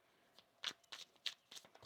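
Tarot cards being shuffled up close: a quiet run of quick papery riffle bursts in uneven rhythm, with no talking.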